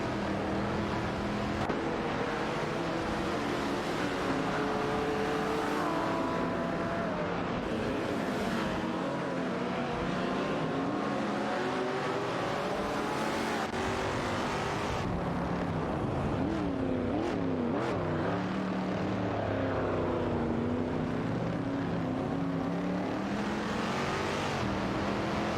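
Race cars in an AI racing video game cornering through a tight turn, dense continuous engine roar with shifting revs and pitch sweeping up and down, loud and unbroken.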